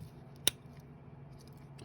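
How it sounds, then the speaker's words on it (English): A single crisp snip from the small scissors on a Victorinox Outdoorsman Swiss Army knife, one short sharp click close by against a quiet room hum. "this is probably the most used Swiss Army knife tool, I think. Scissors."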